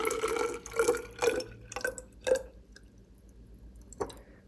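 Liquid 3% hydrogen peroxide is poured into a lab column, giving a run of close, wet glugs and splashes followed by quieter drips and a final small splash.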